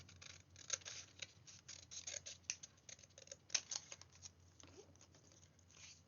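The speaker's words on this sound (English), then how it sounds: "I'm going to cut a small panel" Scissors snip through a small panel of coloured paper in a run of faint, quick, irregular cuts close by, with light rustling between them.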